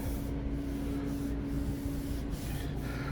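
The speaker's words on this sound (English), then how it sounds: "So I'll go over and skim it real light with some of the body filler." Body filler skimmed thinly over a Ford dent-side truck tailgate, a steady close scraping and rubbing of the spreader across the metal with a few short strokes.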